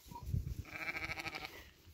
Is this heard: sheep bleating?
yes